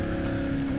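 A car in a GTA-style video game surges on nitro boost, a loud, steady, close engine roar with a sustained whining tone lasting under a second.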